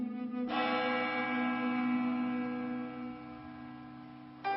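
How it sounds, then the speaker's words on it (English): A church bell rings out as a single sustained toll, its rich harmonic ringing hanging steadily for several seconds and slowly fading, with a fresh strike near the end; no voices are present. "She remembers that church bell would ring every day, that there's a certain bell for a notice for the death."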